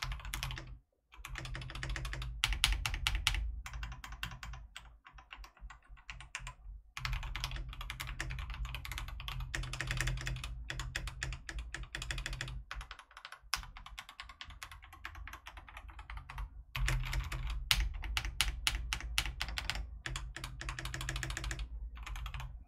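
Steady, rapid typing on an Ardor Gaming Katana mechanical keyboard, crisp clacking keystrokes in continuous bursts with a few short pauses, close to the microphone.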